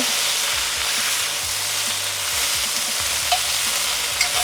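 Stir-frying on the lowest heat in leftover oil from dried fish, a steady broad sizzle with quick scraping stirs throughout, loud and close, no talking.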